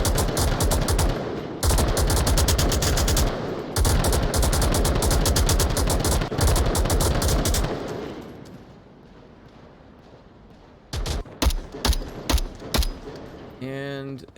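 Rapid automatic gunfire from the VR shooter Onward during a competitive team match, sustained bursts loud and close for several seconds, then a quieter gap followed by scattered shorter bursts, with talk over the action.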